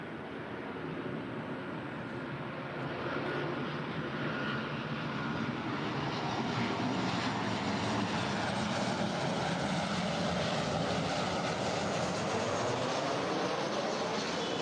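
A jet airliner rolls for takeoff on runway 24 left at LAX, its engines building from a broad roar to a loud, sustained rumble heard at a distance, with no speech.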